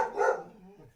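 A dog barks once during a conversation, a loud, full single bark that trails off into quieter rumbling noise.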